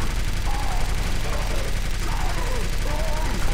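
Sustained gunfire pours at a Tank in Left 4 Dead 2, a dense, steady fusillade filling the whole stretch at close range, with faint voices and game noise mixed underneath.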